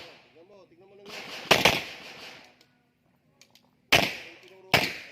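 Gunshots on a prison bureau firing range: three sharp, loud reports, one at about 1.5 s and two close together near the end, each followed by a brief echo, with an instructor's commands and shooters' voices before the first shot.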